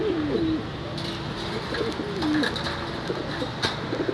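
An African Black Crested pigeon coos softly in a few low, rolling calls, with faint background clatter and rustling around it.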